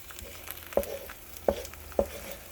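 Eggs for an omelette cook on a Bella electric griddle, a soft low sizzle under three distinct taps of a utensil against the surface.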